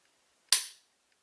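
A single sharp click from a pistol trigger during dry fire practice, one crisp snap that rings out briefly and decays quickly in an otherwise silent room.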